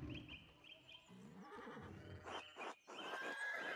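A horse neighs and whinnies in the medieval video game Pentiment, several rising and falling calls over soft game ambience with no talking.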